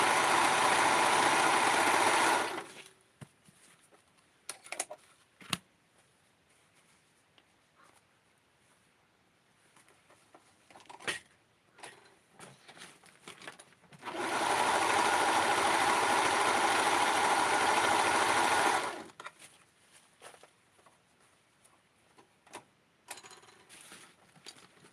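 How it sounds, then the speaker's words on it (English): A serger sewing machine sewing Barbie doll pants: two steady, close whirring runs of a few seconds each, separated by a quiet pause with small clicks and handling sounds. "So I'm doing a lot of serger"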